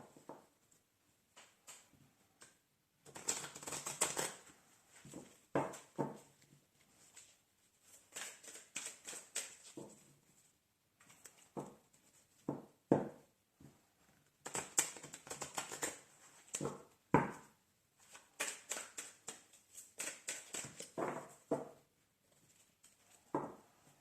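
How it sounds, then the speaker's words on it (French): A tarot or oracle card deck of angel cards is shuffled in bursts of crisp riffling and flicking, close and quiet, with short pauses between the runs of shuffling. "Donc là, on va bien mélanger le jeu."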